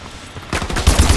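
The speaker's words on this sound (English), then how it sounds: "That was in shotgun mode, but either way, my teammate got the kill." Shotgun fire in the video game Call of Duty Advanced Warfare, with a burst of loud, close booming shots arriving in quick succession after a quieter opening.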